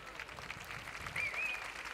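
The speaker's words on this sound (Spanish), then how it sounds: "un aplauso fuerte" Audience applause at an outdoor pro-life rally gathering, a steady wash of clapping that swells slightly toward the end, moderately loud with no voices over it.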